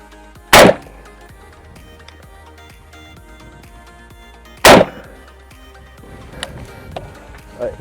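Two sharp, loud rifle shots of 7.62x51 M80 ammunition fired at an armor plate, about four seconds apart, each a sudden crack with a short ringing tail, with faint background noise and small knocks between.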